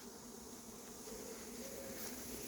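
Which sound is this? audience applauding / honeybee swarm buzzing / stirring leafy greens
honeybee swarm buzzing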